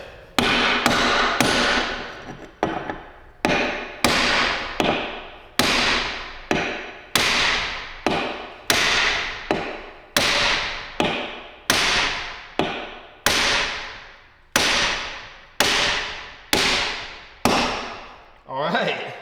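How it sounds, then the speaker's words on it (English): A mini sledgehammer drives a big metal punch in a workshop, about eighteen sharp ringing metallic blows struck in a steady rhythm, loud and close, each strike decaying quickly before the next. "we're gonna need a big hammer"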